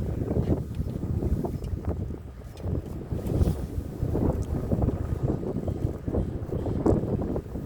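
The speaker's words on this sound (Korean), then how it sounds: "아직까지 바람이 안 죽네요." Gusty wind buffets a fishing boat out at sea off Wando, a rough, rumbling roar that swells and dips irregularly, with wind noise hitting the microphone.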